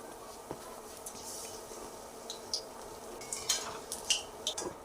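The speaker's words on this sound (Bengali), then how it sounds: "একইভাবে বাকি যে ফুলগুলো ছিল সেগুলো ভেজে নিচ্ছি।" Bok flower fritters frying in hot oil, a steady soft crackle of sizzling with brief sharper pops and clinks scattered through, moderately close, no voices.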